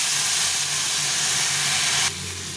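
Loud, steady hiss of vegetables frying in a pan after a splash of water, with turmeric added. The sizzle stays constant and then drops a little in level near the end.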